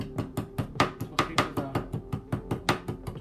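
Back of a cleaver chopping ginger on a board, about fifteen steady, evenly spaced thuds at a gentle pace, close and clear with no talk over them.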